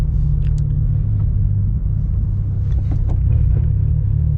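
Many cars idle and rumble together at a car gathering of turbo GT86, BRZ and FRS owners, a loud, steady low engine drone with no pauses.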